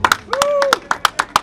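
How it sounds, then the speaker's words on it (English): A few scattered claps ring out in rhythmic bursts from an audience at a Taraba State government gathering honouring the governor, while a voice speaks over them. "Round of applause."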